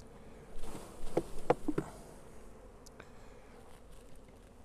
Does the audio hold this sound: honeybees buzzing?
yes